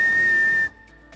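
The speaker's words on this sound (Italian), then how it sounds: "magari fischiando mi sentono" A person whistles a long steady note at an indoor breeding-group event, loud and sustained for about two-thirds of a second before cutting off, leaving a quiet room.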